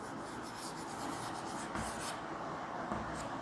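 Pen or chalk writing out a maths condition during a class lesson, a steady continuous scratching and rubbing that runs throughout at moderate, close level with no talk over it.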